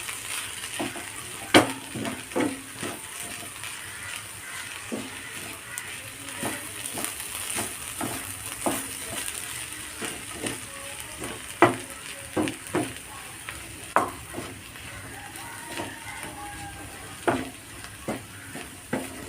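Cabbage masala cooking in a covered pan, a low sizzle beneath a run of sharp, fairly regular spoon-on-pan scrapes and taps, close and moderately quiet, no talk.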